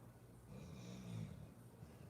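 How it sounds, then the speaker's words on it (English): A person snores faintly in a quiet room, one low, rough drawn-out breath rising and fading, with no talk. "This guy's snoring."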